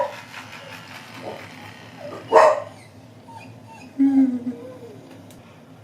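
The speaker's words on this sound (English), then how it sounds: "Dog's barking. Loud noises." A dog barks indoors in two short bursts, a few seconds apart, each fairly loud and close over a quiet, low background hum.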